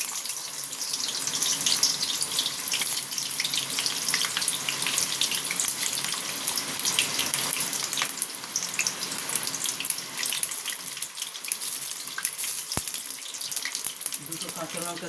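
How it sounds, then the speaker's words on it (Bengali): Onions frying in hot oil for a vegetable chowmein, a steady bright hiss and crackle that runs continuously and fairly close throughout, with no talk over it. "তেলটা গরম হয়ে গেছে, এবার আমি পেঁয়াজটা দিয়ে দেবো।"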